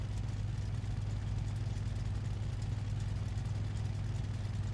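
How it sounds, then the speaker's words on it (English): Car engine with an exhaust leak idling roughly and loudly close by, a continuous low rumble with a fast, even pulsing throughout and no talking. "That's gonna be loud due to that exhaust leak."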